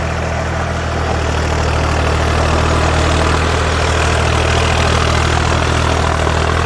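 A tractor engine with a mouldboard plough attached for turning in rice stubble runs at a steady, loud, low idle, a continuous near drone with no break for the full length.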